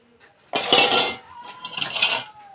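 Potato pieces dropped into a metal cooking pot, two clattering bursts of clinking against the pot, close and fairly loud, with a faint ringing tone between them.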